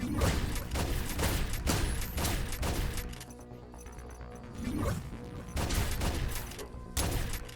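Enemy gunfire in the action roguelite Waterpunk: loud bursts of rapid shots and impacts, then a quieter gap, then more volleys, with heavy crashes mixed in.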